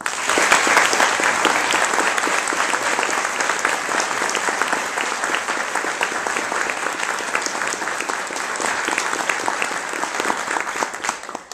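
Sustained, loud applause from a large audience welcoming speaker Dan Rather at a campus event, a steady dense clatter of many hands lasting throughout with no pause.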